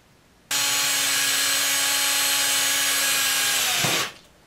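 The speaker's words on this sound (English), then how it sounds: "So there's a hole drilled right in the center of this." A power drill bores a hole into the center of the back of a round scrub brush, a loud steady whine lasting about three seconds before it winds down and stops.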